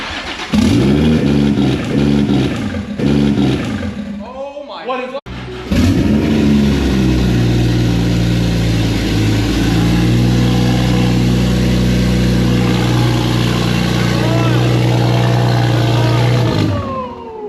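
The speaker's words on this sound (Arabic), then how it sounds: "بعد إعادة توصيل خطوط الوقود المحرك اشتغل أخيرا والحياة رجعت تاني للعربية" A Toyota Supra A90 engine cranks and sputters in several short bursts after its fuel lines are reconnected, then catches and keeps running with a loud, rough, revving idle.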